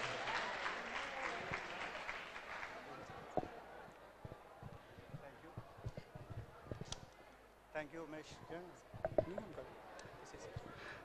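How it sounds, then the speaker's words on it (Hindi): Audience applause welcomes a speaker at a college app launch event, starting loud and dense, then thinning into scattered claps with voices talking over the end. "जोरदार तालियों से स्वागत करिए"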